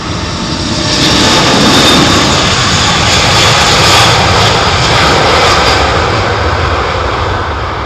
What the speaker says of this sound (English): big, heavy takeoff now